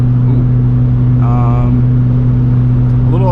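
A 2005 Toyota Corolla XRS with an aftermarket axle-back exhaust muffler drones steadily at about 80 mph near 4,000 RPM, a loud constant low hum filling the whole stretch without letup.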